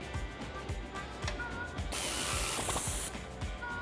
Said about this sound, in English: Using our 19mm socket, tighten down the nut at the bottom of our end link.